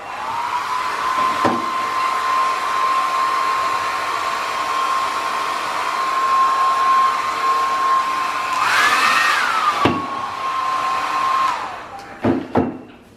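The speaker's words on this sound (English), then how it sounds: "I laid myself a hairdryer here to dry it out a little bit" A hairdryer runs steadily while drying watercolor paint on a greeting card, giving a continuous close whine that briefly rises in pitch near the end before switching off, followed by a few sharp clicks and knocks.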